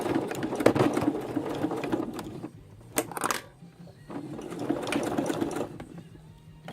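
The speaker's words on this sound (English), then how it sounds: "you'll be able to sew a very thick seam like one of these claw seams here" Sewing machine stitching a thick fursuit claw seam, loud close mechanical chatter in fast bursts with a short pause midway before running again.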